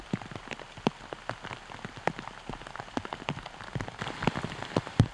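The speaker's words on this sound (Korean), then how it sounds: "그러더니 곧 비가 내리기 시작합니다." Spring rain falling on a bamboo grove and its leaves, heard as a soft, constant hiss with many close, irregular drips and taps, without voices.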